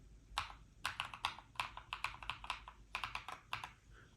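Typing on a LOFREE Block 98-key wireless hot-swappable mechanical keyboard, quick bursts of crisp clacking keystrokes in uneven clusters, close and fairly quiet with no voice over it.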